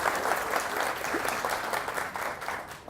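An audience at a talk about pollinators bursts into sustained applause, many hands clapping in a thick, lively crowd sound that swells and fades slightly, with no speech over it.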